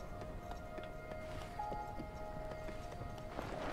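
A horse in Zelda Tears of the Kingdom strains to haul a wheeled contraption along a path, giving faint repeated hoof clops over a low murmur of game ambience.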